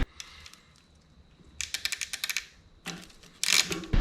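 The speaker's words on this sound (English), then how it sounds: "it uses like a ratcheting mechanism for the clutch on the derailleur" A burst of rapid, sharp mechanical clicks ratchets close up from a MicroShift Advent X bicycle derailleur clutch, then a pause, followed by more quick clicking.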